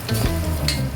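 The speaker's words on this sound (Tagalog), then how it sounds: "I-mekos-mekos lang natin yan para hindi masyadong dumikit. Nagmamantika na siya ng sarili niyang mantika" Adobo pork frying in its own rendered fat while being stirred, a brief close sizzle with a low steady hum beneath.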